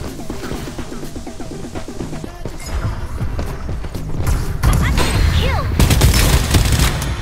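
Assault rifle gunfire in Farlight 84, a video game: rapid shots and booms build and grow louder across the span, mixed with footsteps, game voice prompts and impact thuds.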